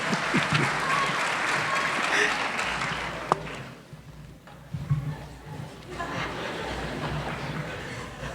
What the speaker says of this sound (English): Give another round of applause for these great children.